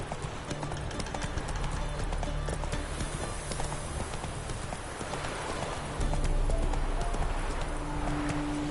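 Hooves clip-clop in a quick galloping rhythm as a horse runs in The Witcher: Wild Hunt, a steady close drumming of hoofbeats with game background sound underneath, growing slightly louder toward the end.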